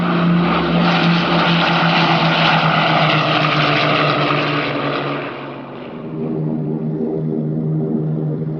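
WWII German bombers and escorting fighters drone overhead, a loud, steady roar of propeller engines that fades slightly and then continues with no voices.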